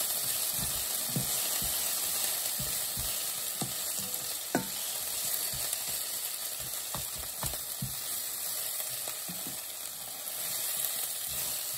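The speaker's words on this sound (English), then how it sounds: "Onions need a stir." Chopped onions sizzle steadily in a hot pan while being stirred, the constant frying hiss broken by repeated scraping and knocking taps of the spoon against the pan, close and moderately loud with no talking.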